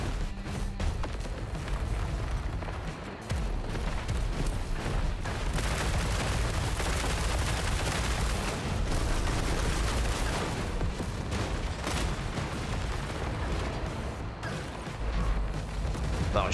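Rocket launcher fire and explosions from War Robots Frontiers, a robot combat video game, rumble loud and continuous under dense overlapping booms and blasts across the whole stretch.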